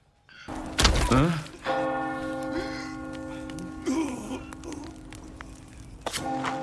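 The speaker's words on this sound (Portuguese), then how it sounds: "Um sino começa a tocar." A church bell tolls in the Resident Evil video game, a loud, sustained ringing with long, humming overtones, broken by a heavy thud near the start and brief voices over the ringing.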